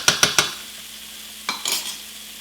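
Sautéed onions with turmeric powder are stirred in a pan: three quick scraping strokes at the start, a pause, then another short burst of stirring, with a faint sizzle underneath and no talking.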